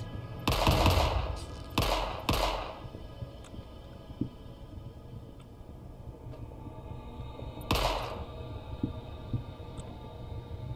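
Gunfire in the demonic first-person shooter Forgive Me Father, set in a factory level: two loud, close automatic bursts in quick succession, then a quieter stretch and a third sharp burst, over a low ambient hum.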